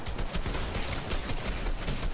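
Rapid, continuous gunfire from a Fortnite match, dense overlapping shots rattling loudly and without pause throughout, with no voices over it.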